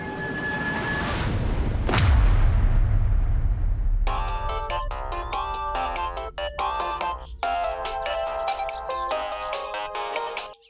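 A loud boom-like hit gives way to a mobile phone ringtone in a TV crime drama, a bright repeating melodic tune playing steadily to the end with brief pauses.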